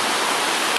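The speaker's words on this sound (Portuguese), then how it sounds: "Olha o tanto de água" Floodwater rushing loudly through a flooded street in Vicente Pires, a dense, unbroken roar of churning water heard close up, steady and alone without voices.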